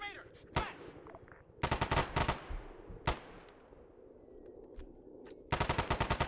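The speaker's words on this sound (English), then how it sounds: "I'm hearing more weapons fire" Close, sharp gunshots and automatic weapons fire in short rapid bursts separated by quiet gaps, with a longer burst at the end.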